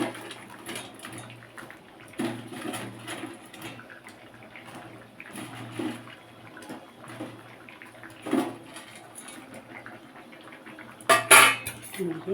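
Peas dal lentil fritters go into a pot of curry, with close metal utensils clinking and scraping against the pan in scattered knocks amid a soft wet background and a sharper clatter near the end.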